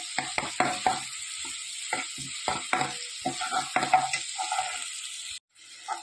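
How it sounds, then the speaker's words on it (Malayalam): Chopped shallots frying in a pan for a country-style papaya curry, a steady sizzle broken by repeated sharp scrapes of stirring, close and fairly loud, with a brief drop near the end. "അരിഞ്ഞു വെച്ച ചെറിയ ഉള്ളി ഇട്ടിട്ട് നന്നായിട്ട് ഇളക്കി മൂപ്പിച്ചെടുക്കുക"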